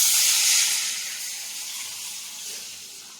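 Buttermilk mixed with gram flour, chopped chilli and grated ginger heating in a pot toward a boil, a soft steady steamy hiss, close and fairly quiet, fading slightly over time.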